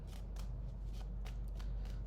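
Tarot cards are shuffled in soft, steady riffling flutters with regular papery snaps over a low background hum, close and quiet.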